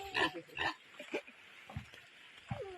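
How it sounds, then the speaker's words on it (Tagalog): A pig grunts several times in short snorting bursts at a clear mountain stream, moderately close against a quiet outdoor background. "May baboy oh."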